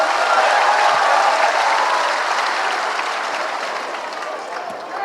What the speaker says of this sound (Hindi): तब ताली बजा के दोनों का समर्थन कीजिए।